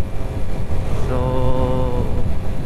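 A Yamaha Sniper 155R motorcycle engine idling close by, a steady loud hum with a rough low throb and a faint rising tonal whine partway through; a voice says a single word.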